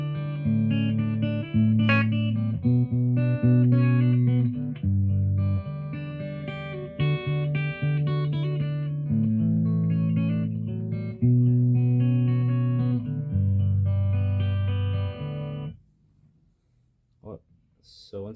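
Guitar slowly plays an opening riff: ringing, clean notes picked one by one in a steady, repeating pattern, sustaining for about fifteen seconds before fading into a few faint handling sounds.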